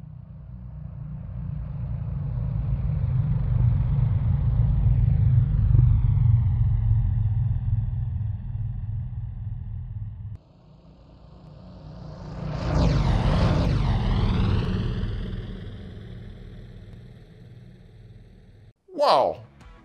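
An aircraft-style engine in the Stormworks game swells and fades as it passes, its pitch sweeping down with a Doppler shift, then a second pass rises loud and falls away, with a short sharp burst at the end.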